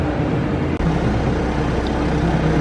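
2016 Ford Focus engine with a newly fitted alternator, running at a steady, loud idle with a continuous even drone and one brief dip.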